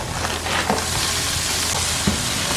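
Onions sizzle and fry with squash in a pan, a steady close crackle with occasional stirring scrapes and no talking.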